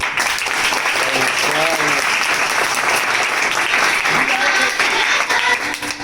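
Children clap for classmates during a primary school cleanliness roleplay, a loud, dense burst of applause that runs the whole time with voices and faint singing mixed in underneath.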